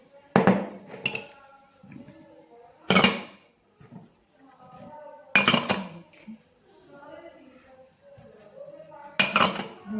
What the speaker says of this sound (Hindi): अब मैं इन सब चीज़ों को मिक्स करने लगी हूँ।